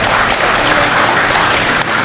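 An audience claps at a Tamil New Year special event in Tiruppur, a dense, loud, continuous wash of many hands clapping together without a break.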